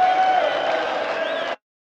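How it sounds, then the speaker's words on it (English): A darts crowd cheers and applauds after a throw, a broad roar of voices and clapping that holds steady for about a second and a half, then cuts off abruptly. "Well, that's got the crowd to their feet"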